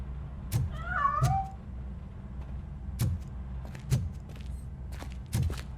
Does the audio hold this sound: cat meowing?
yes